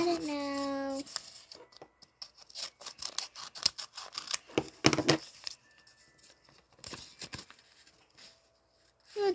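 Scissors snip through paper in a run of quick, close cuts with short pauses between strokes, after a brief tonal sound at the start.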